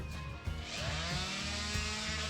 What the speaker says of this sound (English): Now I'm gonna sand down these ragged edges.